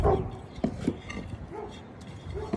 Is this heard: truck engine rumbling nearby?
no